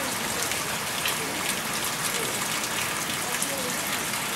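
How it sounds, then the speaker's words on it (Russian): Rain begins falling outdoors over a garden and a parked car, a steady close patter of drops on surfaces that keeps a constant hiss, with some speech mixed in. "Дождик пошел."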